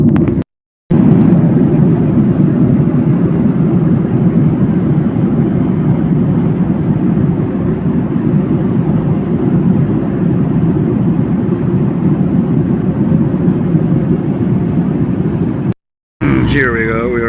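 Airliner cabin on approach to Urumqi Airport over the Gobi Desert, a loud, steady broadband engine and air roar that holds constant, broken by two brief dropouts.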